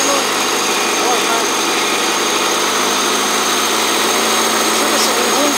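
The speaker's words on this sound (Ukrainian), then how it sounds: "Чути, що двигун зміює такий режим" A wood-gas-fuelled tractor engine runs loud and close with a dense, steady roar and vibration that fills the whole stretch without pause.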